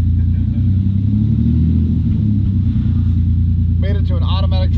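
A 2002 Lexus IS300 with an automatic transmission and no catalytic converter idles with a loud, deep, steady rumble, and a person speaks briefly over it toward the end.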